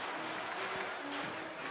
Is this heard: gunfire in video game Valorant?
no